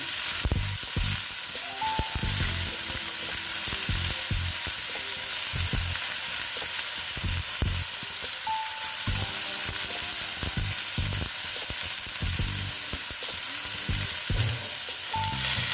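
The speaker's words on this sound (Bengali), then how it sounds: "দিয়ে ভালো মতন আমি সবজিটা ভেজে নিচ্ছি।" Vegetables with green chillies fry in a pan, a loud steady sizzle running throughout, with frequent scraping and stirring knocks from a spatula; no voices.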